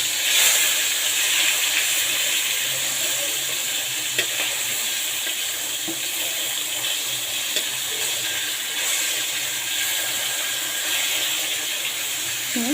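Taro flowers frying with shrimp in a home kitchen, a continuous close sizzle and steamy hiss with faint stirring scrapes now and then, no speech.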